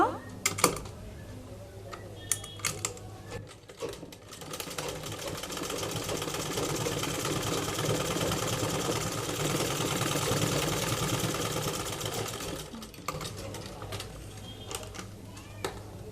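A sewing machine runs a continuous double stitch along the side seam of a baby frock for about eight seconds, framed by short bursts of clicking and handling before and after.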